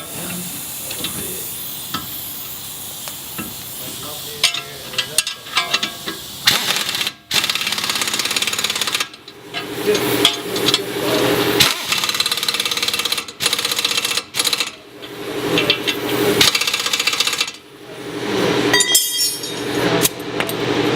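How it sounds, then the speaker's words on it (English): Socket and wrench tightening front suspension bolts on a Nissan Altima during wheel bearing work, heard as a run of close metallic clicks, ratcheting and clinks that stop and start with brief pauses. "We have 17 socket and 17 wrench to tighten it up."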